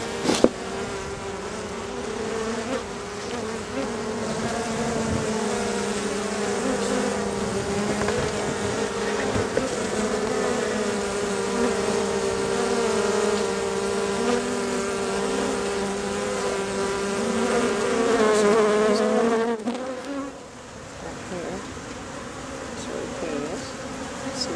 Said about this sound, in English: You see all the bees.